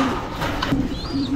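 Pigeons cooing in a loft, a steady low murmur of soft coos running throughout, close and continuous, with a faint higher chirp near the end.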